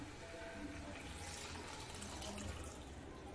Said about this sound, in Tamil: ஒரு நெல்லிக்காய் அளவுக்கு புளியை கரைச்சி அந்த தண்ணியை சேர்த்துக்கோங்க